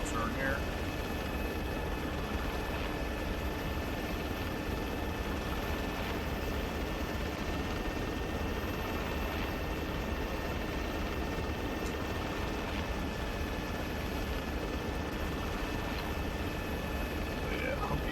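Helicopter in the military game Arma 3 droning steadily and continuously, a dense rotor and engine roar filling the whole stretch at constant loudness, with a Humvee slung or loaded aboard making it shake.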